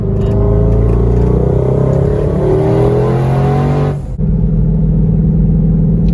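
A twin-turbo 2020 Shelby GT500 engine revs hard and climbs in pitch, roaring loudly up close, then cuts off abruptly to a lower idle rumble.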